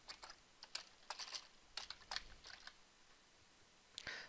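Fingers tap quickly on a computer keyboard in light, irregular bursts of clicks, with one brief pause and a sharper keystroke near the end, all close and quiet with no voices.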